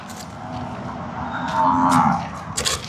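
A Murrah buffalo gives a long, deep, drawn-out moo that swells in the middle, close by, with faint rustling and background noise around it.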